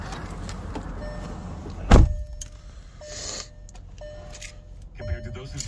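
A 2019 Volkswagen Atlas SUV starts with a short loud crank and catch near the start, then settles into a quiet idle while dashboard chimes ring. Someone talks over it.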